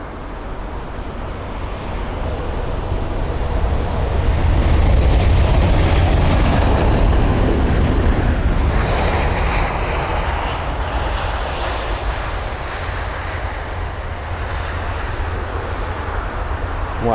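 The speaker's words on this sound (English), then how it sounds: "The A350, what a whopping aircraft." Airbus A350 landing at London Heathrow, a loud sustained jet engine roar that builds and lingers for many seconds as the aircraft passes close by.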